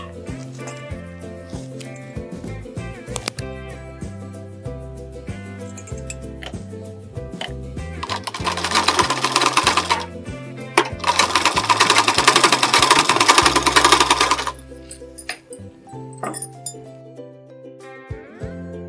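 A sewing machine runs in a steady whirring burst through the middle, stitching a second line along the joined shoulder seam of a blouse, with tonal background music playing throughout.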